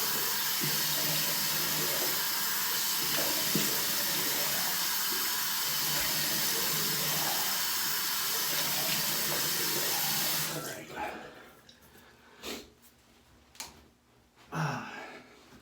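Hot water running steadily from a bathroom tap into a sink, a continuous close splashing hiss that stops abruptly partway through, leaving quiet room sounds and a few brief handling noises.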